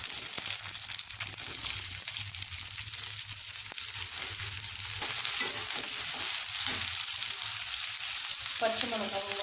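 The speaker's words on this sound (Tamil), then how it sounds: "எண்ணெய் நல்லா காஞ்சதுக்கப்புறமா கட் பண்ணி வச்சுருக்க 4 வெங்காயம் போடுங்க." Four chopped onions fry in hot oil in a kadai, giving a continuous close, crackling sizzle with frequent spatula stirring scrapes and a few sharper knocks near the end.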